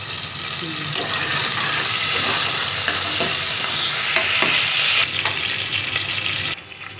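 Onions and curry leaves frying in oil in a cooker pan with cumin and mustard seeds, a dense close sizzle with occasional stirring clicks and a faint voice underneath.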